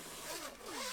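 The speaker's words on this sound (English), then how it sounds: "they have this zipper enclosure" A zipper on a VaultX card binder enclosure runs in one quick, close, raspy pull that rises and falls in pitch over about a second.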